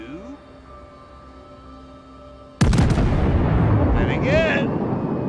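Ship guns firing in the naval combat game World of Warships: a sudden loud boom of a salvo hits partway through after quieter engine and ambient hum, followed by sustained rumbling blast noise with whistling shell sounds.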